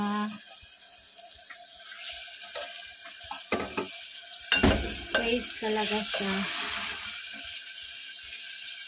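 Water splashes into a cooking pot of vegetables with clanks and stirring, over a soft background hiss, while a voice says a few words.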